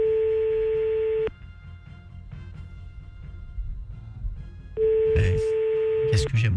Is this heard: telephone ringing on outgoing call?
yes